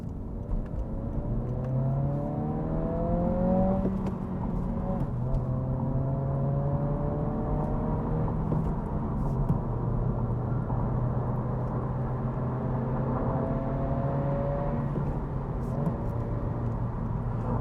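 A 2022/2023 Honda Civic Si with a manual gearbox drives hard. The engine note climbs steadily through each gear, then drops at every shift, over a continuous close-up drone and road roar.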